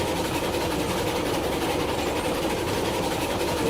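A train rolls along track in the railroad game Railroads Online, giving a continuous, loud, dense rumble with an even engine drone and no breaks.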